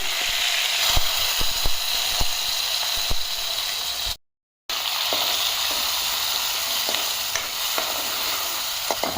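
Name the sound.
ginger garlic paste frying in very hot oil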